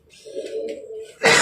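A teddy pigeon gives a single soft low coo up close, followed by a sudden burst of broadband noise.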